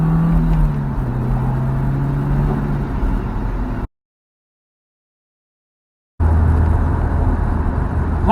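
An MG F mid-engined, rear-wheel-drive sports car pulls away under steady engine power, the drone loud and close, cutting to silence before the engine sound picks up again.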